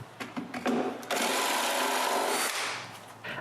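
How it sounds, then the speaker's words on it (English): A power drill bores a hole through wood to make an opening for an electrical box in a carved shelf, a steady loud whine of about a second and a half after brief bursts of start-up. "After drilling a hole"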